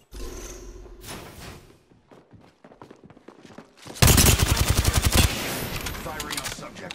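Rapid automatic gunfire in Apex Legends, a dense, loud burst of shots lasting over a second after quieter footsteps and thuds, with brief talk.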